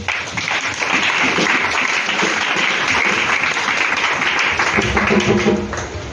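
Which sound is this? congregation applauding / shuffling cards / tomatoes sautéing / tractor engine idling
congregation applauding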